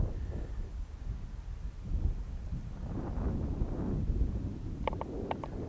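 Gusting wind roars steadily against an outdoor microphone at a small model-plane flying field, a continuous low rumbling buffet with a few faint chirps near the end.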